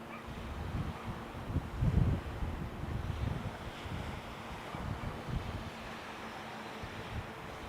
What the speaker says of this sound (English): Definitely much windier than I was expecting.